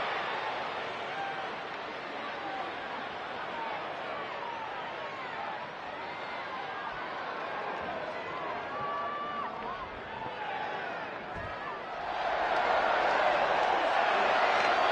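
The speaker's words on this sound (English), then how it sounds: "it sounds to me like this crowd already picked the one who they want to win this match" Wrestling arena crowd in WWE 2K20 murmuring steadily, then swelling into louder cheering near the end, with commentators talking over it.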